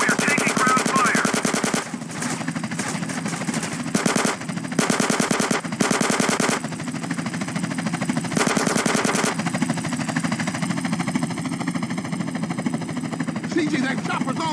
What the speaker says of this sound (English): We are taking ground fire.